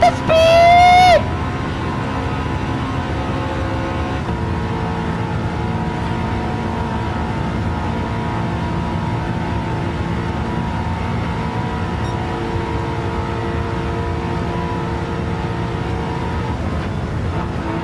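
A BMW M3 race car engine in the Gran Turismo racing game holds a loud, sustained high-revving drone as it accelerates down a straight, after a brief rising shift at the start.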